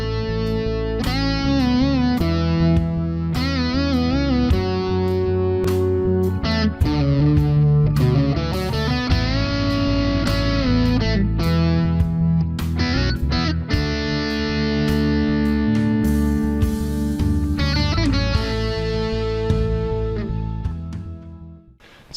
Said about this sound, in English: let's have a quick listen to that opening solo and then break it down